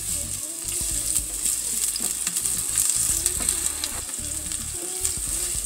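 A quarter of a medium onion fries in hot oil in a pan, a close, steady sizzle with bursts of crackle and stirring, and no voices.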